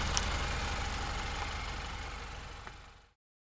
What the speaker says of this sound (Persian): ماشین کامپکت یا جمع و جور.